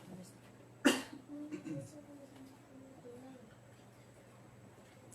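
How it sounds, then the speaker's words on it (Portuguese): A single short cough close to the microphone in a quiet room, followed by a soft throat sound and low background hum. "Deu uma tosse aqui, gente, mas não é o corona não"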